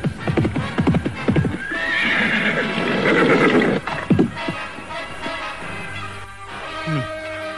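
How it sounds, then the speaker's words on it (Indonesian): A white horse arrives with clip-clopping hooves and a loud, drawn-out neigh close by, followed by snorting and quieter shuffling. "datanglah Layang Suta dengan kuda putihnya."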